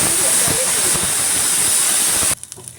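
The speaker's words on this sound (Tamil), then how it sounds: "குக்கர் ப்ரெஷர் ரிலீஸ் ஆகிடுச்சு." A pressure cooker vents steam in a loud, continuous hiss that cuts off abruptly near the end, leaving quiet kitchen sounds.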